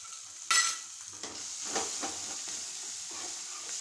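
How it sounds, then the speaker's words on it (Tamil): Egg poured onto a hot nonstick tava for kothu parotta, a sharp splash then a steady close sizzle with light scraping and stirring. "இப்போ முட்டையை ஊற்றிடணும்."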